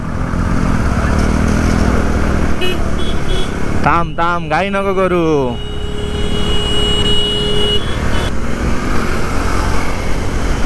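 A motor vehicle takes a corner on a hill road near Lonavla, its engine a steady drone with a brief rising rev in the middle, while people talk close by.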